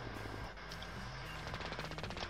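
Gunfire in Call of Duty Warzone: a rapid, distant rattle of automatic shots, fairly faint, growing denser toward the end, with no talk over it.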